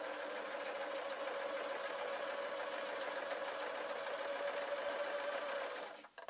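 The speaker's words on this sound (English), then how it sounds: "then I can start sewing." A sewing machine stitches a simple fabric peg bag with a steady, close mechanical whirring hum that runs unbroken for several seconds, then stops abruptly near the end.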